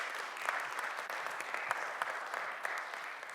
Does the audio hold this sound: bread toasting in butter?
no